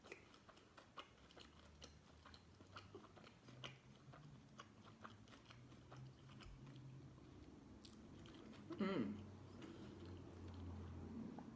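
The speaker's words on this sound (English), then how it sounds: "So I'll just take a bite out of it." Crisp bites and steady chewing of a large chicken taco in a waffle shell, close and quiet, a soft rhythmic crunching with one louder bite late on, no talk.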